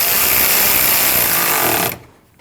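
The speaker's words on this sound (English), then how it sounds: "You need to tighten that bolt." A power tool whirs loud and continuous while tightening a bolt on the radiator fan shroud of a 2012-2021 Nissan NV2500 5.6L V8, cutting off sharply near the end.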